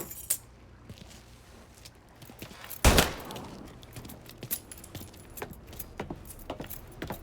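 Car keys jangle in the Mafia III video game, a cluster of metallic clinks and rattles with one louder burst near the middle, fairly close and clear over a quiet background.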